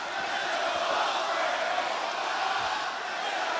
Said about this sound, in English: Fans trying to cheer Ospreay on,